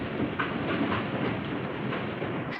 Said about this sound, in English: From inside the train, heading eastbound, coming up from under the Southern Pacific underpass.